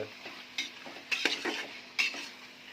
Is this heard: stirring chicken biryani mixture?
yes